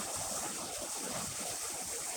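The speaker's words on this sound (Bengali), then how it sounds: "ঢেউটা আসছে" Salty sea waves wash in on the shore, a steady close rush of surf with wind noise blowing across the microphone.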